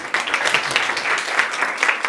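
Students at Shri Narsing Kanya Shala in Akot break into applause at a school celebration, a dense burst of many hands clapping that stays loud and continuous throughout.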